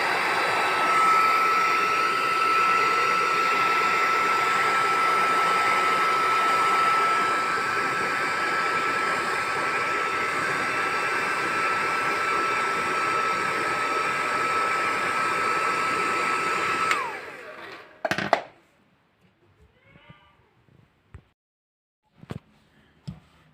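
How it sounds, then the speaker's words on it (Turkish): A handheld hair dryer blows a continuous loud, steady whoosh while heating glue on a sofa arm during repair, then switches off near the end, leaving a few faint knocks and handling sounds. "Biz bunu fön makinesiyle iyice ısıtacağız."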